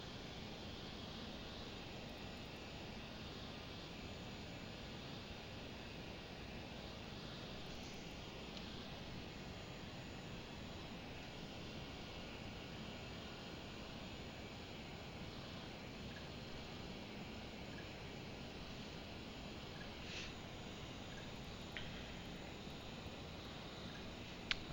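Steady, quiet whine and rumble of LearJet jet engines in Microsoft Flight Simulator 2020 during descent, a constant even drone with no variation and no speech.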